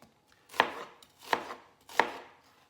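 A knife chopping onion on a cutting board while making shrimp cocktail, three sharp, evenly spaced strokes, close and clear, with no talking.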